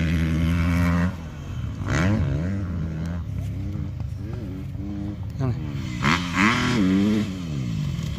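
Motocross bike on a training course revving and accelerating, a loud mid-pitched engine with rising and falling pitch sweeps, close by, while people talk over it.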